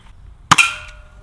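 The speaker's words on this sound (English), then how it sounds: "So I'm gonna shoot it." A single sharp shot rings out close by from a Colt Python .357 Magnum revolver, a sudden crack with a brief metallic ring that quickly fades to quiet.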